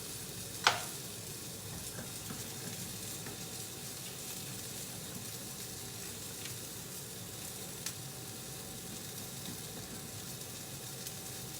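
Butter is stirred into polenta cooking in a pot: a soft, continuous bubbling hiss with a single sharp utensil click early on and a few faint taps later.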